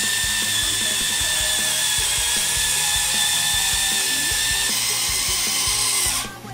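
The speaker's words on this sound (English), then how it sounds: "Sounds like a power tool." A 2005 Conair Pro Color Accents hair tool whirs continuously at close range, a high-pitched steady whine running for several seconds before abruptly cutting off near the end.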